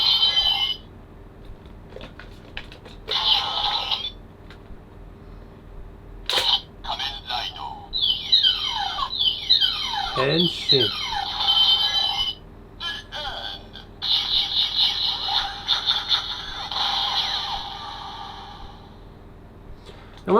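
A Kamen Rider Neo DiEnd Driver toy gun plays its electronic sound effects in bursts: beeping alarm-like tones, rapid descending zaps and chirps, separated by short pauses, with a brief spoken word over them.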